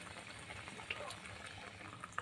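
Water poured into a pan of cooking hog plums, a faint steady liquid rush and bubbling with a couple of small clinks, quiet throughout.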